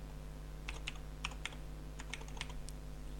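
Computer keyboard typing as a file name is entered: a quiet run of quick key clicks in two short bursts, steady in rhythm over a low electrical hum, with no voices.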